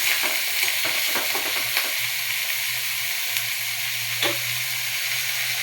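Finely chopped tomato sizzles in a hot tempering of mustard seeds, cumin and garlic, a steady close frying hiss with a few spatters and scrapes early on and a low hum underneath.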